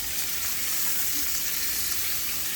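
Turnip greens from a deer food plot hit a hot pot with a steady, loud sizzle and frying hiss that holds evenly throughout, with no voices.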